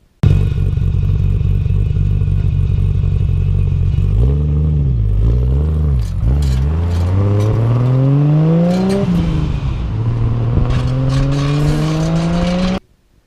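Nissan R32 GTR engine idling roughly and running rich, then revved repeatedly with rising and falling pitch, loud and close, ending in a long climbing rev before cutting off.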